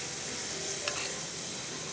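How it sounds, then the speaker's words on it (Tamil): Steady, dense sizzling of fries frying in hot oil, a constant crackling hiss with a faint clink partway through. "இப்போ நம்ம செகண்ட் பேட்ச் பொரிக்க போகிறோம்."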